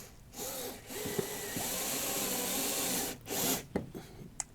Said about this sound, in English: And then let's screw it.